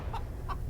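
Chickens cluck softly nearby, two short clucks about a third of a second apart over steady background noise.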